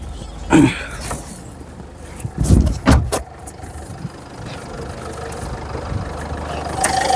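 A Ford Figo Titanium diesel engine idling low and steady, broken by a few sharp knocks and thumps nearby.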